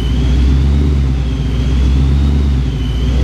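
A supercharged Mustang engine revs loud and close, a steady deep rumble holding with a faint whine on top, alone without talk.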